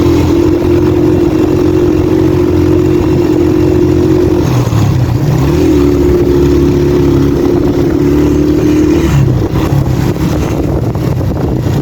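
A Suzuki Gixxer 125 motorcycle engine drones steadily and loudly, its pitch rising and falling as the rider accelerates, with constant wind and road noise.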